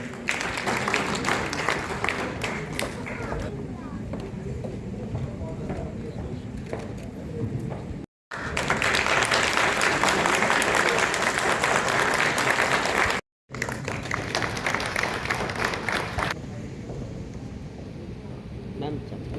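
Audience applause at a Law Department honours ceremony for judicial achievers, a dense roomful of clapping in long loud stretches, cut by two brief gaps, with some murmur mixed in.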